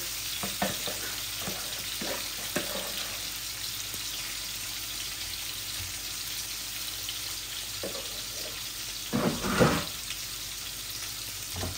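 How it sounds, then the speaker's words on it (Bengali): Large rupchanda pomfret fish slowly frying in oil, a steady hiss with scattered clinks and a burst of louder splattering and scraping toward the end, no speech heard. "মাছটা আস্তে আস্তে ভাজা হোক"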